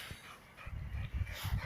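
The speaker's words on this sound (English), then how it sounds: "Two great hyper energetic dogs." Two hyper energetic dogs panting and whimpering close by, quick rhythmic breathy puffs in bursts with faint whines, fairly quiet indoors.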